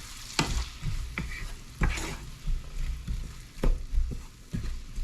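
Onion and garlic sizzle steadily in a pan while a utensil stirs and scrapes at uneven intervals, close and moderately loud with no talking.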